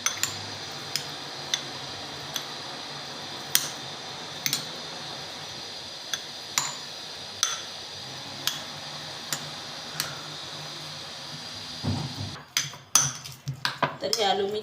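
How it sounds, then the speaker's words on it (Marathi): Boiled potatoes being mashed in a bowl for patties: sharp, evenly spaced clinks of the utensil against the bowl, then a denser burst of scraping and clatter toward the end. "तर आपण सर्वप्रथम जे बटाटे आहे त्याला थोडं बारीक करून घेऊया"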